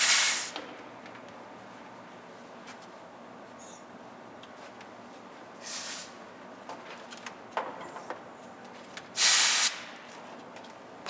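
Air is purged from refrigerant recovery hoses in short bursts of sharp hissing, one at the start, a shorter one mid-way and a louder final blast, separated by quiet fitting clicks and handling noises.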